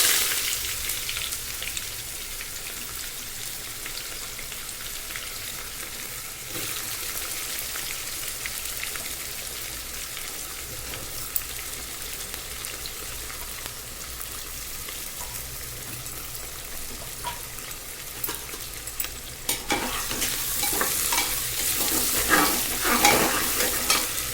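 Onions frying in oil with whole spices for mutton curry, a continuous crackling sizzle that is steady for most of the stretch and grows louder and busier toward the end.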